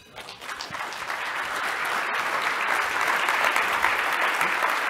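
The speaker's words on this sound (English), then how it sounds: "give them each a big round of applause" Applause from a crowd at the 2017 LVGEA Las Vegas Perspective business event honors sponsor Cox Communications, a dense, steady wash of clapping that swells within the first second and holds loud and full to the end.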